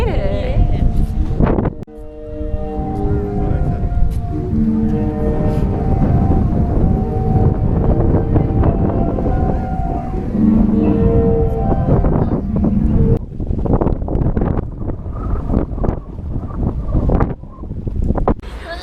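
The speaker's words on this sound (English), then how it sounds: "So we're at the sea organ, so hopefully you can hear some sounds." Zadar's sea organ sounds as ocean waves push air through its pipes at sunset: several sustained, breathy tones rise and fall over heavy wind rumble, with the notes clearest early on and voices talking nearby.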